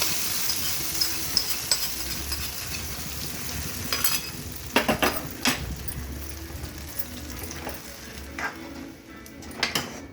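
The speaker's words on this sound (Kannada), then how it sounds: "ಗೋಡಂಬಿ ಫ್ರೈ ಆಗ್ತಾಯಿದೆ. ದ್ರಾಕ್ಷಿ ಹಾಕ್ತಿದ್ದೀನಿ." Cashews and raisins sizzle in hot ghee for a sweet pongal, a steady close crackle of frying broken by sharp stirring scrapes and clinks of a spoon against the pan.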